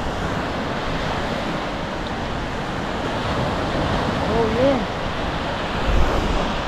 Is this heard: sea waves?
yes